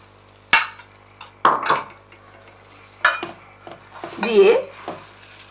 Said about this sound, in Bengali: আবার আমাকে এটা মিশিয়ে নিতে হচ্ছে।